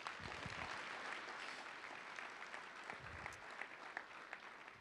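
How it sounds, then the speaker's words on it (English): Steady applause from the audience at an economic development board annual meeting, given for a panel, runs evenly through the whole stretch at moderate loudness with no voices over it. "let's have another round of applause for them."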